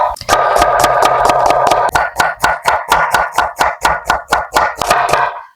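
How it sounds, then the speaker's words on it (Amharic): Onions are chopped by hand with a knife on a board while cooking Ethiopian doro wat, a loud, close run of sharp, evenly spaced chopping strikes after a short continuous scraping sound. "አሁን ሽንኩርቱን መክተፍ እንጀምራለን"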